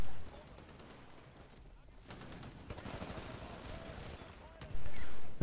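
Hip-fired gunshots in the shooter Titanfall rattle in quick bursts against game noise, with a sharp, louder burst at the end. Someone talks over the shooting.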